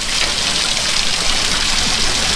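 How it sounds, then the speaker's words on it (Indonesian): Water pours steadily from an open channel with no tap into a village bathroom, a loud close continuous rushing and splashing that stays even throughout with no one speaking. "Terus airnya ngalir."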